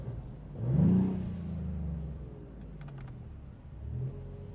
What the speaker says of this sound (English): let's give her one more rev here